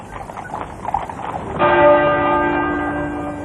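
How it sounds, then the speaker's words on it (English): The muffled tenor bell of Westminster Abbey tolls a single deep chime during Princess Diana's funeral, ringing out loud with a long sustained hum after clattering horse hooves and crowd ambience. "A single muffled chime, counting off the minutes to 11 o'clock."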